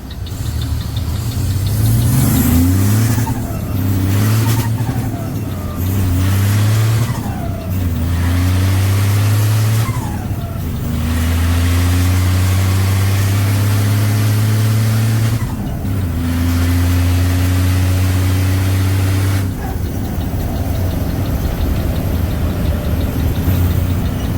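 A Hino E13C 380hp diesel swapped into a Volvo FM12 truck revs repeatedly, deep engine bursts rising and falling in several loud pulls with brief dips between, close and dominant.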